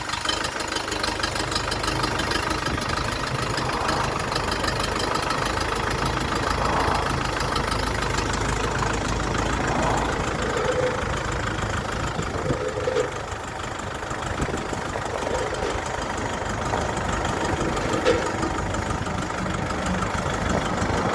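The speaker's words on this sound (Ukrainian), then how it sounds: "Потужний трактор на 50 кінських сил." An Orion 504 50 hp tractor engine idles with a steady, continuous rumble and a faint knocking texture, running alone with no talk.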